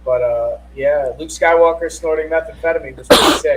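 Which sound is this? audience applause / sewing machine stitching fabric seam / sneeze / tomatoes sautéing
sneeze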